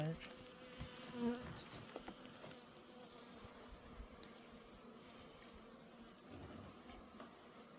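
Honey bees buzz steadily around a hive that has been opened and pulled apart on a cold March day, a soft, continuous drone heard close by with faint handling noises.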